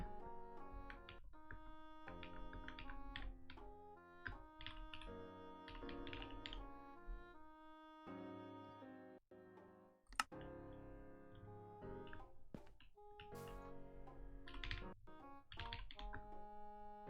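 Rapid, irregular key clatter from a compact 60% computer keyboard fills the whole stretch, bursts of clicks with brief pauses and one sharp louder clack midway, over a backdrop of tonal game or background music.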